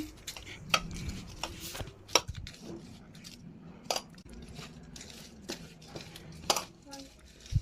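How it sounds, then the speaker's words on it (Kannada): A peanut powder, white sesame and raisin mixture for laddu is stirred in a metal bowl, producing scattered light clinks and scrapes of spoon on steel at close range amid quiet room tone. "ಈಗ ಮೇಲ್ಗಡೆ ಸ್ವಲ್ಪ ಒಣ ದ್ರಾಕ್ಷಿಯನ್ನು ಹಾಕ್ಕೊಂಡು ಇದನ್ನು ಚೆನ್ನಾಗಿ ಮಿಕ್ಸ್ ಮಾಡ್ಕೊತೀನಿ"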